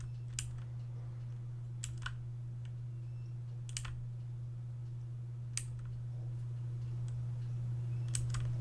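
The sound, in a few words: typewriter dialogue text sound effect from a dating sim video game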